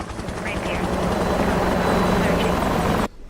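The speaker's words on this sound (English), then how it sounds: "Helicopter!" A helicopter in the DCS flight simulator game drones with a loud, steady rotor thrum throughout, continuous and close, cutting off abruptly at the end.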